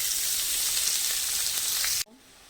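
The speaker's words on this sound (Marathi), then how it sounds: "आता या सगळ्या भाज्या घालायच्या आहेत आणि परतून घ्यायच्या आहेत." Mixed vegetables hitting a pan of garlic, ginger and green chilli being sautéed, a loud continuous hissing sizzle that cuts off abruptly near the end, leaving faint background.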